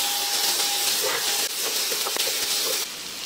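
Red and white onions and garlic sizzle in a hot pan with mushrooms, a constant bright hiss with small crackles and pops, close and steady throughout.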